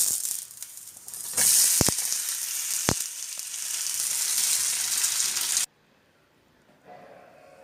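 Sabsige soppu (dill leaf) rotti sizzling in oil on a pan: a steady loud frying hiss with a couple of sharp clicks, which cuts off abruptly and is followed by quiet background.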